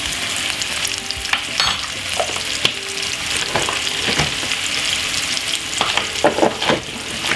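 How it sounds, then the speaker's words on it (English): Courgette spaghetti and vegetables are stir-fried in a pan with a loud, continuous sizzle, while a utensil scrapes and knocks against the pan in irregular bursts. "Then the best thing we need to do next now is to give it a lovely stir."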